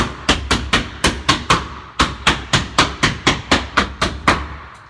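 Sharp, close knocks ring out in a fast, even series as a sheet of glass tile is beaten into wall adhesive, about fifteen blows with a short pause partway through.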